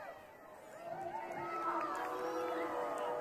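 Stadium crowd at a 2023 ACC women's soccer match between Clemson and Virginia Tech, heard faint and distant as a swelling murmur of cheering and chatter.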